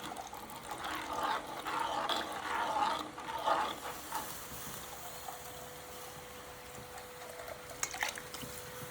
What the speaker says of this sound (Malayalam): ഇനി ഇതിനകത്ത് വെള്ളം ഒഴിക്കാം